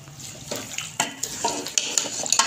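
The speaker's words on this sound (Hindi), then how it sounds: "इसको हमें अच्छे से मिक्स कर लेना है।" Chana dal and water being stirred in a cooking pot, with sloshing liquid and a run of light metallic clinks and scrapes from the spoon against the pot; close, steady and without talk.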